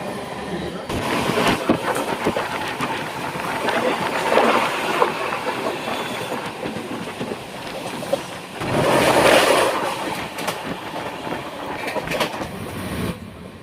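A 15483 Sikkim Mahananda Express passenger train runs on its rails between Alipurduar and Siliguri, a steady loud rumble and rattle of wheels and carriages throughout, swelling louder for a stretch near the end.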